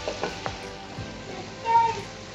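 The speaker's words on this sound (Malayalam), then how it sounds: "ഇപ്പോൾ പുളിവെള്ളം നന്നായിട്ട് തിളച്ചിട്ടുണ്ട്." Tamarind water with chili powder and turmeric boiling in a pot for fish curry: close, soft bubbling with a few sharp pops early on and a brief louder burst near the end.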